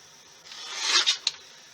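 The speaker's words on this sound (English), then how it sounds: "we are just going to trim them all up" Scissors snip through paper stamp pieces being trimmed by hand, a short soft rasp rising to a couple of quick close cuts, with no talk.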